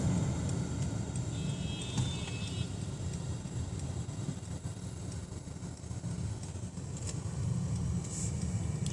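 A Mercedes-Benz EQ 400 pure electric car cruises on a road trip, giving a steady, faint low road and tyre rumble with soft wind noise and no engine note, unbroken from start to finish.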